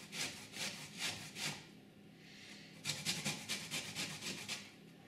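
Organic lemon zest is grated on an older, softened grater in rapid rhythmic scraping strokes, close up, in two bursts separated by a short pause.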